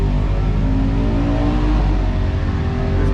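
A turbocharged BMW 135i with the N54 engine, running about 18 pounds of boost at a drag strip, gives a loud, sustained engine roar that holds steady and close throughout, without talk.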